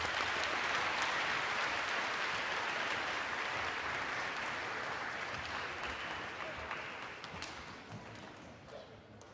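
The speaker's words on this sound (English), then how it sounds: "clap for yourselves, all right?" A crowd at a school DARE graduation ceremony applauds in a long, full round that gradually thins and softens toward the end.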